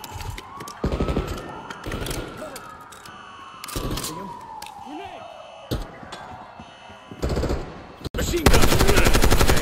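Rapid automatic gunfire from Call of Duty: Black Ops 6 comes in loud, choppy bursts, with a police siren wailing underneath, and the shooting intensifies at the end.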